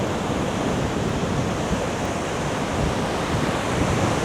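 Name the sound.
strong wind and choppy waves on a beach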